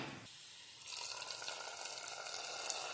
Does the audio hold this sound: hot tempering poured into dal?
yes